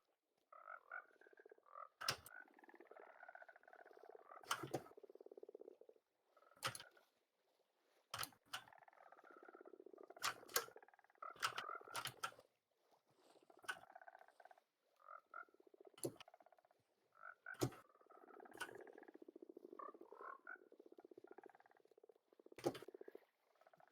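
Minecraft frogs croak in short, low throaty bursts scattered irregularly, separated by sharp clicks and pops, the calls faint and close with no talking over them.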